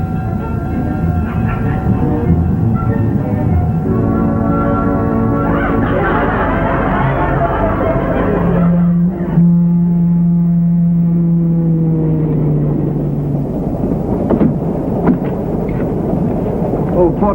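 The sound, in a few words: train steam at a station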